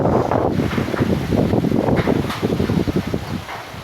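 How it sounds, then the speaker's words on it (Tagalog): Strong wind buffets the microphone in a steady, roaring rush with gusting surges, loud and close throughout, no voices. "malakas ang hangin"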